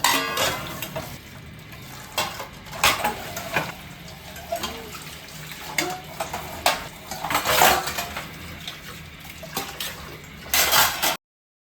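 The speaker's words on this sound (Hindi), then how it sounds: "तो पूरा बर्तन को मैंने वॉश कर लिया, उसके बाद बारी आती है सिंक वॉश करने की।" Dishes and utensils are washed in a kitchen sink, with plates and pots clanking, cutlery rattling and water running, in close irregular bursts with no talk.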